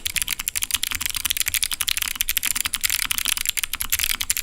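Rapid, continuous typing on Arctic Fox clicky mechanical keyboard switches, each keystroke a sharp, loud click in a dense steady stream, close up with no voices.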